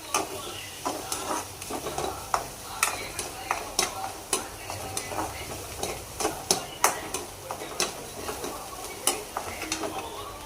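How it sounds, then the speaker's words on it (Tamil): Onions sauté in a pan with a light, continuous sizzle, broken by regular scraping and tapping strokes of a spoon stirring them up close. "வெங்காயம் போட்டு நல்லா வதக்கிக்கோங்க."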